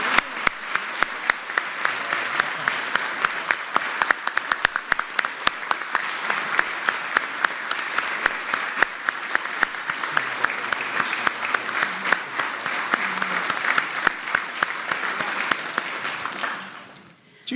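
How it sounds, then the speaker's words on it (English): Sustained applause in the Senate of Virginia chamber welcoming the regional Teachers of the Year, loud, dense clapping from a large room that continues steadily for a long stretch before fading at the very end. "We can give them a warm welcome and a round of applause"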